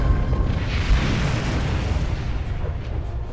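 Starship weapons fire and explosions during a space battle in Star Trek Online: a loud, deep rumbling blast at the start that rolls on and slowly fades, heard alone without talk.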